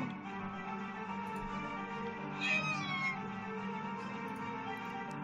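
A cat meows once in a long, drawn-out cry over a steady hum of background music in a video game.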